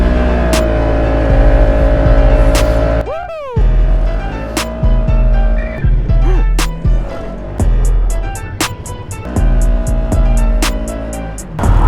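Polaris RZR side-by-side driving through deep snow in a heavy Pennsylvania snowstorm, a loud nearby engine revving and surging in bursts with gear-like pitch sweeps, followed by a rapid series of sharp ticking clicks.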